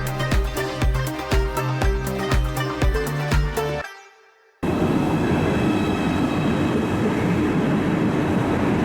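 An ICE train travelling from Brussels to Cologne: a short burst of rhythmic music cuts to silence, then a loud, steady rumble of rolling carriages continues unbroken.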